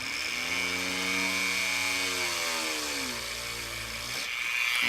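A power drill bores a hole through an acrylic sheet, a steady loud whine whose pitch sags and shifts as the bit bites, running continuously for several seconds with no talk.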